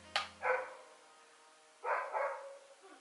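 A neighbors' dog barks a few times in the distance, two short faint bursts separated by a pause, heard alone without talk.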